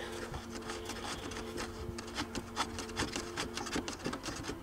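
Screws being backed out of a Mitsubishi gear shifter assembly with a hand tool, giving a steady scraping, rubbing creak broken by small irregular clicks and ticks, close by, with a faint electrical hum underneath.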